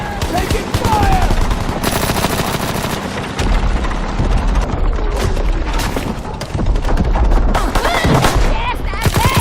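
Dense gunfire and explosions from the World War II shooter Call of Duty WW2 in multiplayer, with rapid machine-gun bursts, single shots and booms filling the whole stretch, loud and continuous under a busy battlefield mix.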